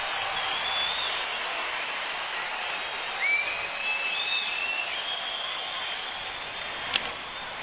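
Baseball crowd at a Houston Astros home game against the New York Mets, a broad distant cheering and applause wash holding steady, swelling slightly midway, with a sharp crack near the end.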